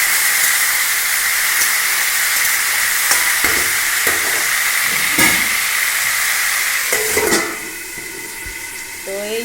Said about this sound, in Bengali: তো একসঙ্গে মিশিয়ে নেব, নাড়াচাড়া করে একটু ঢাকিয়ে দেবো